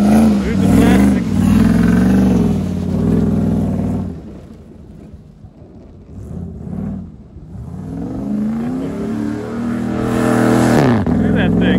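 A Cadillac with a Dodge trunk roars loudly while drifting and doing burnouts, its engine revving and rising in pitch. The engine dips quieter midway, then climbs back to a loud rev, with voices mixed in.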